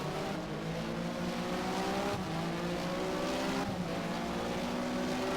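Porsche Mobil 1 Super Cup race car in Race07 at Catalunya, engine droning loudly and steadily with rising harmonic pitch as it accelerates out of a turn, continuous and close throughout.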